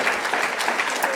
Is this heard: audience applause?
yes